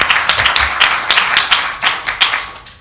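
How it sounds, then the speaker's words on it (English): Audience at a candidate debate clapping in a steady round of applause, a dense run of sharp hand claps that stays fairly loud throughout and is heard alone without talk. "Let's give these candidates a round of applause."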